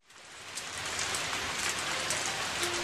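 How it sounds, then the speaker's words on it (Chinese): Rain starts suddenly as a cartoon sound effect, a quick swell into a dense, steady hiss of falling drops. "这时候突然下雨了。"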